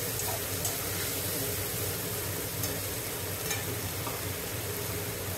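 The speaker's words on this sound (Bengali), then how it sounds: "এবার এই দেখুন ডিমটা দিয়ে কষিয়ে" Eggs being stir-fried in a tomato masala for egg curry, giving a continuous dense sizzle with occasional light stirring scrapes, steady and close, with no voices.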